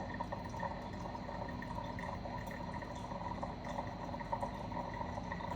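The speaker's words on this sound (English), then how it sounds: "you're going to keep very slowly adding water" Water poured slowly and steadily over coffee grounds, a soft continuous trickle with faint drips, close and fairly quiet with no talking.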